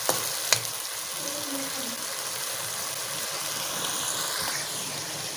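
Chicken kofta masala paste fries in a pan with salt and spices, giving a steady, dense sizzle close by. A couple of sharp clicks near the start sit over the continuous hiss, with no talking.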